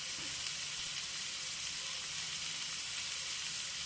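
Onions frying with spices in a pan for an egg puff filling give a steady, even sizzle that runs close and unbroken throughout, with no voices.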